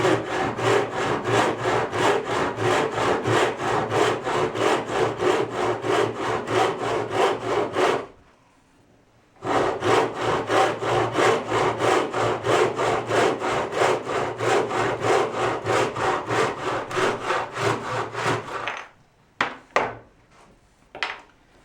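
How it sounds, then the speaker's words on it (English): A hand saw cuts through wood in fast, steady back-and-forth strokes, stops briefly partway through, then resumes for a long second run. A few sharp, separate knocks follow at the end. "just saw down. Start on the far side, work back, take your line."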